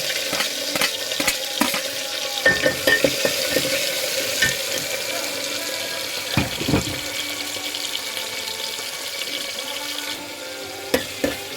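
Okra and tomatoes frying in oil in a pan, a steady close sizzle broken by scattered stirring clicks and scrapes of a utensil, with no voices.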